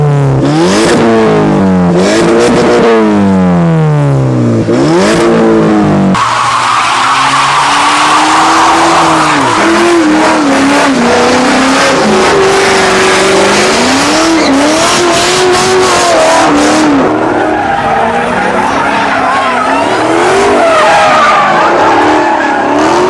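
A Mazda Miata at a car meet revs hard several times with sweeping rises and falls, then breaks into loud tire squeal and skidding as the engine wails and surges up close.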